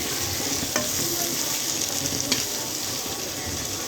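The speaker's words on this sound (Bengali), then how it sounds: "আলুগুলো সবগুলো দিয়ে এখন আমি এটা ভালো করে নেড়ে ছেড়ে দিব" Fish roe and potatoes frying in a pan while being stirred, a dense steady sizzle with two distinct spatula knocks against the pan, close and continuous without speech.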